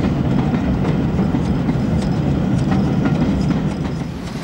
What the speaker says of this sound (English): an immaculate double-chimneyed castle arrives with a train from the West Country